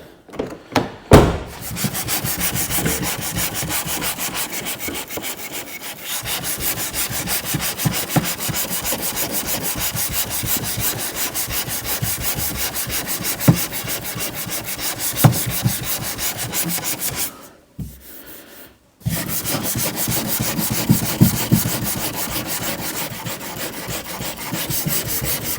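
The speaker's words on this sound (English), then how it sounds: "The rest can be done with the old DA sander." Dual-action (DA) sander working over car body panels on a Vauxhall Corsa C or Meriva A VXR in a workshop, a steady abrasive whir with rubbing texture running continuously, briefly stopping near the end before resuming, no talk.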